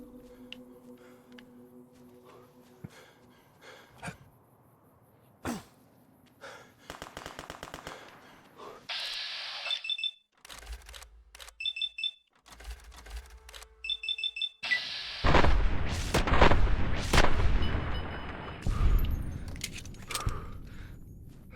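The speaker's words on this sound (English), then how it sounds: "Someone's really shooting." Gunfire rings out in the video game Fallout New Vegas, with scattered shots and rapid bursts of automatic fire growing louder and denser toward the end, along with game sounds and brief tones.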